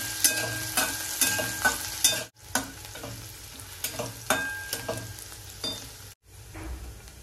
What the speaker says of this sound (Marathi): मिरची आणि लसूण छान परतलेला आहे.